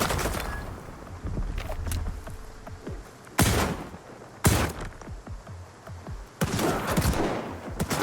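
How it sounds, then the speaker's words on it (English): Underbarrel shotgun firing in the shooter game Stalker 2 during a fight with bandits: three loud, sharp blasts spaced a second or two apart, with scattered smaller gunfire and clatter between them, no talk. "Underbarrel shotgun."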